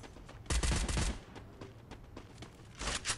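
Gunfire in a shooter video game: a loud burst of rapid automatic shots up front, then scattered quieter reports and another close burst near the end, with no talk over it.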